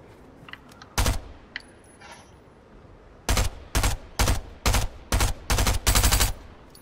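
A weapon fires in Fortnite: a single loud shot, then after a pause a rapid string of about eight sharp, close gunshots in quick rhythm, with faint clicks and rustles in between.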